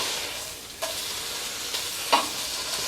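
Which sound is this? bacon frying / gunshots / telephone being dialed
bacon frying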